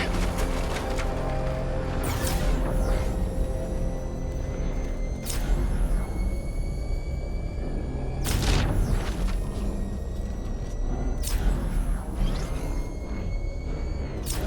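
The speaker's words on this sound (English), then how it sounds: "The Arkham Knight's vehicle swerved and crashed up ahead." A vehicle crashes in the Batman: Arkham Knight video game: several heavy booms and whooshing impacts hit at intervals over a continuous rumbling bed of engine and game sound.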